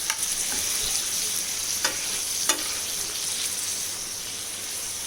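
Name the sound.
masala frying on a tawa with chicken tikka boti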